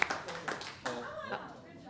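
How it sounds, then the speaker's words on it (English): A school board meeting audience claps in a brief, light round of applause, a few scattered claps close by while voices murmur underneath. "We thought she was asking us for a round of applause."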